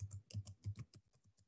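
Quick, even taps on a computer keyboard, about a dozen keystrokes in a brisk run, close and quiet with no voices.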